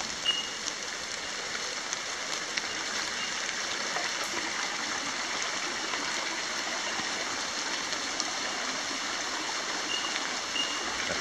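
Floodwater from a swollen Smith's Creek gushes steadily out of a manhole, a dense, continuous rushing roar close by with no pauses and no voices.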